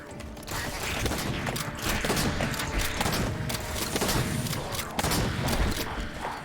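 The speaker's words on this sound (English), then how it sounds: "the best shotgun ever" Shotgun fire in a video game: a dense, loud wash of gunfire and mechanical clatter with a few sharper blasts standing out, continuous throughout.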